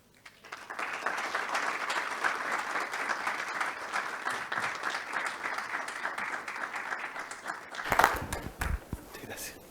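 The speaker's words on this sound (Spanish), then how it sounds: "recibamos con un caluroso aplauso al doctor Gabriel León" An audience applauds warmly for Dr. Gabriel León, a dense, even wash of many hands clapping for several seconds before it breaks off into a few louder handling thumps and murmurs.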